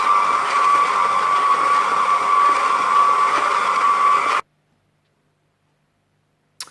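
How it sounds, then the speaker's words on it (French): A stand mixer kneads vegan brioche dough made without butter or eggs, its motor giving a steady, close whir for about four seconds before cutting off abruptly into silence. "je laisse travailler le robot pendant 5 minutes"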